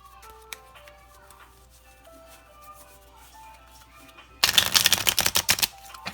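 Quiet background with faint clicks, then a sudden burst of rapid riffling as a deck of cards is shuffled for a pile, loud and close for about two seconds.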